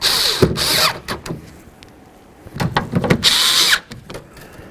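Power tool driving nuts onto a 2002-08 Dodge RAM 1500 exterior door handle, two loud whirring bursts with brief pauses and clicks between them, close up and without talk.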